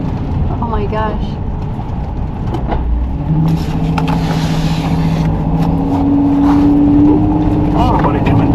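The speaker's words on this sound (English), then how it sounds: "Oh, we're going through some deep mud." A van grinds through deep mud on a rutted dirt backcountry road in Pennsylvania, its engine droning and surging steadily throughout while people talk over it.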